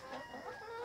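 Dominant CZ and Rhode Island Red chickens cluck softly and continuously while feeding on a farm in Cebu, close and brief.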